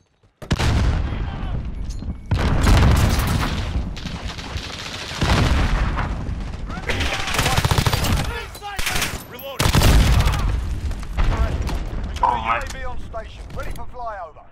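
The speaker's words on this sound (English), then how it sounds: "Throwing grenade." A grenade is thrown and explodes during a match of Call of Duty: Modern Warfare, as loud broadband blasts and rumbling bursts recur throughout, mixed with gunfire, mechanical clatter and in-game voice callouts.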